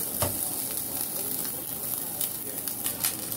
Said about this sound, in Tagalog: At igigisa na natin yung bawang at saka sibuyas